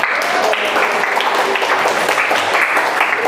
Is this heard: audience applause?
yes